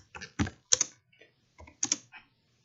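Someone types on a computer keyboard while writing a WordPress blog post: a few clustered clacky keystrokes, close and crisp, with short pauses between them, and no voices.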